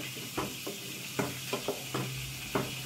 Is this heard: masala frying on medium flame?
yes